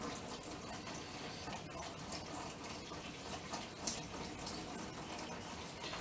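Warm water is poured from a cup into a bag, making a continuous soft trickling and splashing pour close by at low volume, with no talking over it.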